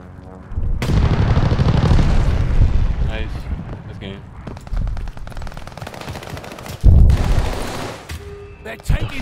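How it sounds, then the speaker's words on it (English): Airstrike explosions in the shooter game Call of Duty Vanguard come as heavy booms and rumbling blasts mixed with machine-gun fire, with a fresh loud burst near the end; voices and radio chatter run over the battle. "Your teammate called an airstrike."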